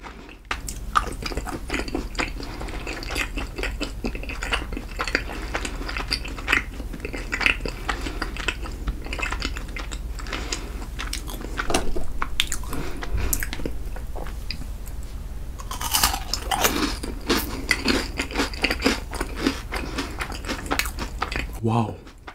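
Kinder chocolate and Magnum ice cream eaten close up in a mukbang, with wet chewing, squishy bites and crisp cracks of chocolate coating repeating throughout, loud and intimate, with occasional Korean talk between bites.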